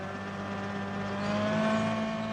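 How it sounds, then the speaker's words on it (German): A tractor-driven wood chipper with a flywheel and steel blades runs as a steady, droning mechanical hum with a whirring tone that swells slightly, continuous and close with no talk. "Der Häcksler wird von einem Traktor angetrieben."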